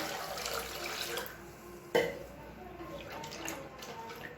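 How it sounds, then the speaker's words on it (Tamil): Water splashes and pours into a cooking pot nearby, a steady watery rush with a brief clunk, while someone speaks over it. "அதே டம்ளரில் 6 டம்ளர் அளவுக்கு தண்ணி சேர்த்துக்கலாம்."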